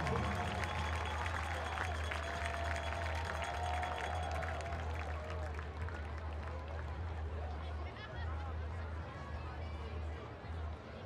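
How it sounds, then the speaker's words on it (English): A stadium crowd applauds and cheers steadily at a Boston Breakers women's soccer match. The broad, continuous roar is mixed with crowd chatter and holds throughout. "one more round of applause for your 2013 High School champions, Newton North"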